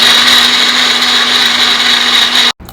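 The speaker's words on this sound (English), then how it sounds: "Blend everything together again for another minute or so." A blender whirs steadily at high speed, loud and close, running continuously before cutting off abruptly near the end.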